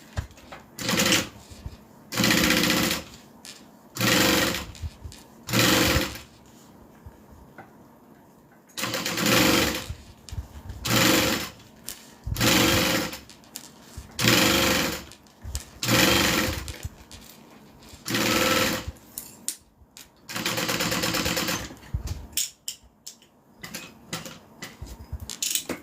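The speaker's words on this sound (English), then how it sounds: "now we're just going to fold it in half and sew it down" A sewing machine stitches folded bag fabric in repeated bursts of rapid whirring, each a few seconds long with short pauses between.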